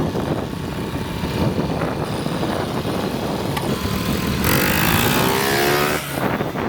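A small dirt bike engine runs continuously close by while being ridden, with a steady buzzing drone and a sharp rise in revs near the end.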